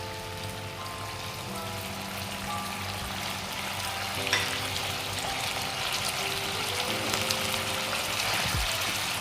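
Pieces of fish going into hot spiced masala for doi mach, an even sizzle and crackle of frying in the pan, close and steady, with a few soft clinks and a brief stir near the end.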